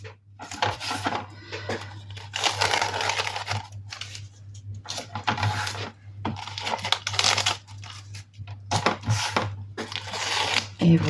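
Masking tape is peeled off an art journal paper page in repeated close, rasping, crinkly bursts separated by short pauses, over a faint low background hum.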